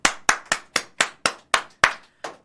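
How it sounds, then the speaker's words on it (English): In a studio, a single person claps in a slow, even rhythm, about nine sharp, close claps spaced roughly a quarter-second apart with no crowd behind them. "get this man a round of applause"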